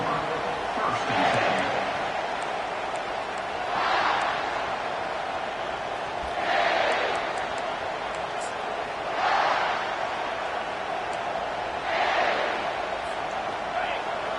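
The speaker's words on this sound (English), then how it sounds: "It's early, but this crowd is fired up. Listen to this noise here." A stadium crowd roars at a USC American football game, a broad steady rumble that swells in regular waves every few seconds beneath an announcer talking throughout.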